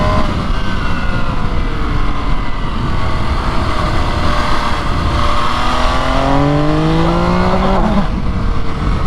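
A naked MV Agusta Brutale 800 RR, a limited-edition motorcycle, revs hard and close without changing gear. Its engine note rises steadily and loudly in one long sweeping climb.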